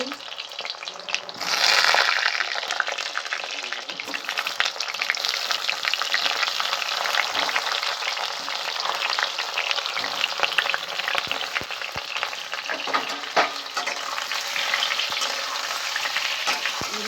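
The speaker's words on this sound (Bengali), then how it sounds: "এবার আমি ভালো করে তেল দিয়ে ভেজে নেবো।" Whole boiled, peeled new potatoes fry in hot oil for dum aloo, giving a loud, unbroken sizzle and crackle with occasional stirring clicks throughout.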